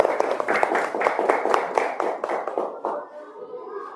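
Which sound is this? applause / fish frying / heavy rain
applause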